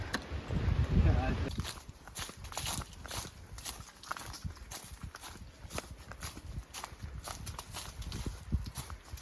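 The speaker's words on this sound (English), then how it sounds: "That's where all the horses were." Horses walking along the Appalachian Trail near Mount Rogers, their hooves clip-clopping in a steady, fairly soft rhythm, with a louder rustle at the start and faint talk in the background.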